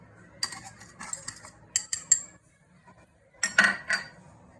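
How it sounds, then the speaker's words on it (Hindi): A utensil clinks and scrapes against a bowl while sugar is mixed into a truffle cake batter, in two bursts of quick, bright taps separated by a short pause, close up and without talk. "इन सभी को हम एक साथ ही मिक्स कर लेंगे।"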